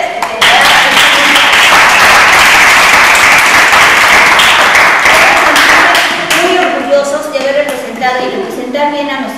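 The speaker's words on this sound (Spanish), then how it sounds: "Dense un aplauso otra vez." Loud, dense applause from an audience in Jacala honoring the children of a judo team, sustained clapping close by that eases slightly toward the end.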